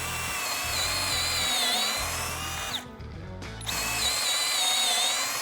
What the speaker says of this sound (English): You're gonna drill your pilot holes